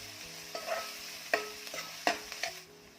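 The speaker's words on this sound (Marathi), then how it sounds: "कांदा भाजताना थोडं मीठ घालायचं, त्यामुळे कांदा पटकन भाजला जातो." Chopped onion with salt frying in a pan for a methi bhaji, a quiet sizzle punctuated by several distinct spatula stirs and scrapes at close range.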